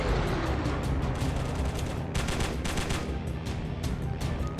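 Rapid aircraft machine gun fire in the WWII air-combat video game Squadron 303 rattles continuously over a roaring engine drone, with dense bursts that grow sharper partway through, loud and close.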